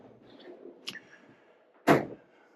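Soft-close kitchen cabinet hinges in a Keystone Cougar 26LBW travel trailer ease shut, with a faint slide and a small tap, then one firmer muffled thunk as the door settles, close and quiet.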